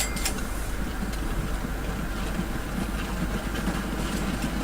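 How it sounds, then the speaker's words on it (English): A train rolls steadily through a station area in the Transport Fever video game, a continuous rumbling engine drone with faint rhythmic rail clatter, even in loudness throughout with no voices. "we have a pretty consistent train going in and out of here"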